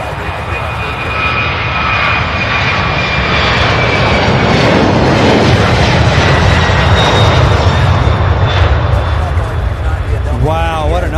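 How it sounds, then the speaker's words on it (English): A jet plane taking off at Louisville International Airport produces a loud, continuous roar that swells and holds throughout, with voices talking over it. "Wow, what an awesome takeoff."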